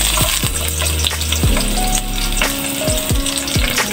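Ginger and onion sizzle steadily in hot oil in a pan, with a loud frying crackle and repeated scrapes and clinks of a utensil stirring.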